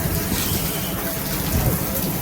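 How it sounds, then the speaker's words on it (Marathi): Heavy rain driven by strong wind, heard from inside a parked car at night, a steady dense wash of noise with low rumbling buffeting throughout and no pauses. "एकदम जोरात वारा पाऊस सुरू झाला."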